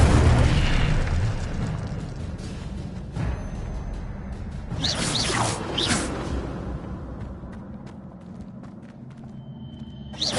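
Fire spell cast in Hogwarts Legacy on PS5: a loud, sustained roaring whoosh with booming bursts, flaring brighter midway through a dense, continuous blast of flame.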